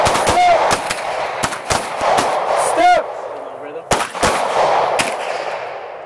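Pistol shots crack during a close retention shooting drill on a training range in Nashville, Tennessee, coming as several sharp, spaced reports among other shooters' fire, with shouted commands between them.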